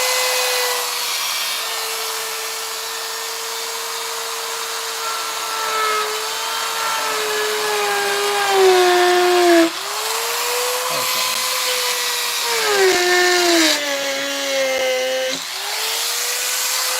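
A power drill bores into wood with a steady, loud whine that dips in pitch under load several times, and faint talk can be heard in the background.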